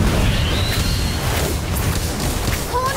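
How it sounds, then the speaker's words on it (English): A spell-triggered blast in the Harry Potter: Magic Awakened video game gives a loud, sustained booming rumble with crackling burst texture and swooshing effects layered on top throughout. "Explosion!"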